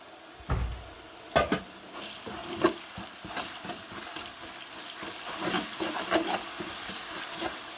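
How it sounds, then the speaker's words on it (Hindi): Onion frying in ghee with garlic-ginger paste, stirred in a pot: a soft, steady sizzle with scraping stir strokes and occasional clinks, close and fairly quiet, with no talking. "घी में ये फ्राई होता रहे"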